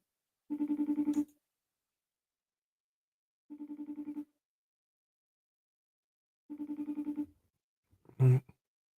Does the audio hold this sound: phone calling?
yes